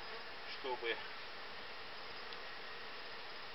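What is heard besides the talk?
bees buzzing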